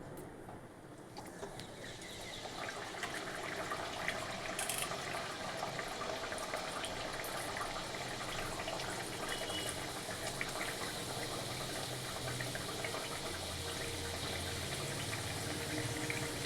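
Radhaballavi, lentil-filled dough rounds, fry in hot oil with a steady, dense sizzle and bubbling that rises after the first couple of seconds and holds evenly throughout.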